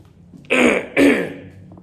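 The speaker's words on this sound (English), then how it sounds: "I might need to take a drink before I have a coughing fit." Two harsh, rasping throat clears in quick succession, close and loud, with a brief pause between them.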